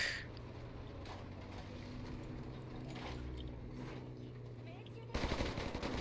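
Tank machine guns firing in the War Thunder battle game, rapid continuous rattling bursts at moderate level under engine rumble, ending in a sharper, louder burst.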